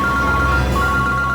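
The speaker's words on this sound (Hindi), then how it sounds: "ये मेरा ही फोन है सर" A mobile phone ringing with a steady, loud electronic tone that runs continuously and unbroken, heard alone.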